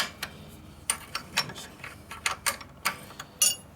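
Near, dry metallic ticking and clicking from a bolt being loosened on the kicker cover of a 1941 74ci Knucklehead transmission, in irregular bursts of short clicks with pauses between, no talking.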